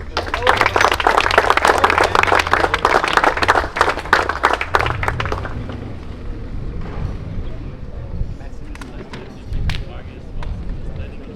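Crowd applause rings out at a turbo-kart race in Wohlen for a kart racing team, loud and dense for several seconds, then fades into scattered claps under background murmur and a speaking voice.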